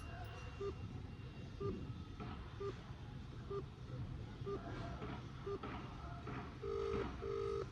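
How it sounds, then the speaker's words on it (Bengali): A telephone rings on an outgoing call, heard as short repeated electronic tones at a steady rhythm, with a longer pair of tones at the end, over constant low background rumble. "রিং হচ্ছে"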